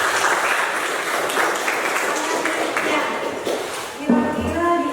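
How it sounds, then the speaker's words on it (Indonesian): A classroom of students claps for a classmate, a steady mid-level patter of many hands lasting several seconds, fading near the end as a teacher's voice returns. "Beri tepuk tangan."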